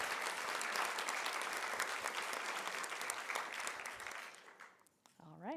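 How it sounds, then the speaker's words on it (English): Audience at a National Press Club luncheon applauds the head table guests, a dense sustained round of clapping from a large room that fades near the end as a voice begins speaking. "How about a round of applause for our head table guests this afternoon?"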